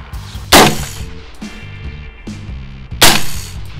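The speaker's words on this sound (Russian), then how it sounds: "Первый выстрел всегда громче, чем второй и третий, потому что пороховые газы занимают полость в банке" An AR-15 rifle chambered in 5.45x39 fires two loud, sharp suppressed shots through a can suppressor outdoors, spaced about two and a half seconds apart, with a lower crack between them and no talking.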